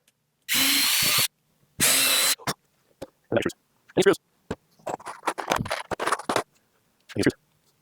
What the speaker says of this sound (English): then you can go ahead and pre-drill your bottom holes